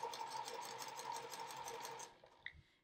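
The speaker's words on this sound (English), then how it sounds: "So I'm lining up one corner with the needle and the other corner with the blue line down the center and just sewing across." A sewing machine stitches quilt pieces in a rapid, even whirring run for about two seconds, then stops, followed by a faint click, close and alone.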